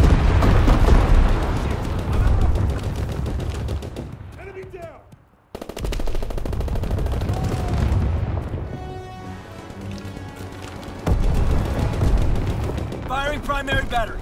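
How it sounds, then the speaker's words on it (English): In the Call of Duty WWII video game, an anti-aircraft salvo sets off dense, loud bursts of gunfire and booming explosions that pause briefly mid-way and then return at full force, while a radio-style voice talks over parts of the barrage. "Anti-aircraft salvo commenced."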